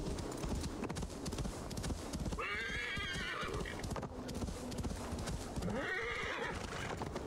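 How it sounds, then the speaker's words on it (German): A horse in the video game Assassin's Creed Valhalla gallops with fast rhythmic hoofbeats throughout, breaking into two loud whinnies midway and near the end, close and clear. "Ah, das Pferd ist erschöpft."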